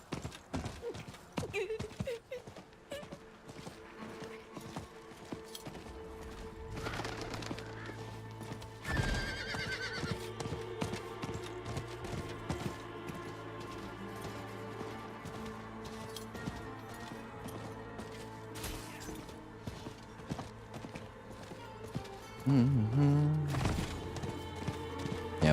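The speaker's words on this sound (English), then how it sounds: "We're gonna jump on our horse." Horse hooves clip-clop at a gallop with a few whinnies, over a busy Diablo IV game soundtrack of music and effects.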